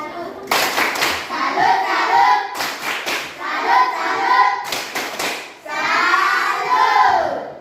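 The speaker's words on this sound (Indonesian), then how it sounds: "kita beri tepuk tangan untuk kelompok" Children in a classroom clap for a group in short rhythmic bursts separated by pauses, with excited young voices chanting and shouting loudly between and over the clapping.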